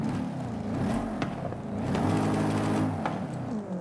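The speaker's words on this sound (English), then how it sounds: "now it sounds like a proper Lexus V8" A Lexus V8 with sport exhaust and intake upgrades in Forza Horizon 5 revs and drones steadily, its engine note rising and falling with gear changes, loud and close with no voices.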